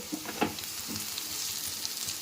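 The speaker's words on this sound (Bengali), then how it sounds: "যতক্ষণ না রসুনের কাঁচা গন্ধটা চলে যায় ততক্ষণ রসুনটা আর পেঁয়াজটা একসাথে ভেজে নেব" Garlic and onion sizzle in a frying pan, crackling close and steady. A few sharper pops and stirring scrapes rise out of the hiss.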